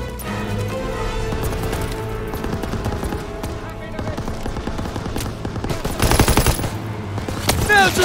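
Call of Duty WWII battle on Hill 493, with steady bursts of machine gun fire and scattered gunshots, loud and dense throughout, while soldiers shout orders over the combat.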